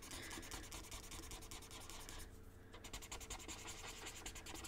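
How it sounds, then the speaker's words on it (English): Sandpaper is rubbed briskly across rolled paper blending stumps, making a close, continuous rhythmic scratching with a brief softer dip midway. "you just need a little bit of sandpaper just to clean them up"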